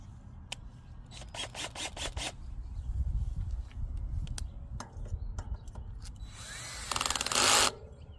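A cordless drill with its clutch set low spins and ratchets in quick clicking bursts as the clutch slips, ending in a louder whirring burst.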